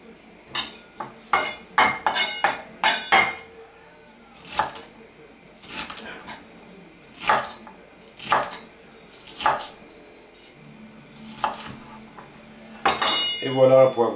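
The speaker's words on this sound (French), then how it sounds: "Et voilà un poivron émincé en quelques secondes avec cette méthode." A knife slices a bell pepper on a board, with quick clusters of crisp chopping strikes, then slower spaced single cuts and a brief clatter at the end.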